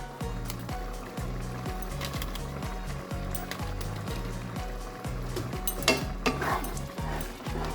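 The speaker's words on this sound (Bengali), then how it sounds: "ভালো করে নেড়ে চেড়ে দেব।" Chicken tadka with tadka masala being stirred in a pan, a steady scraping and sizzling under a bed of rhythmic background music, with a few louder clinks of the spoon against the pan near the end.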